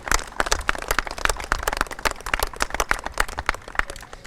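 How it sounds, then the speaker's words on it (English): An audience applauds for Jimmy at a Bergen New Bridge Medical Center event, a steady wash of many hands clapping close and loud for several seconds with no talk over it. "Pause and give Jimmy a round of applause."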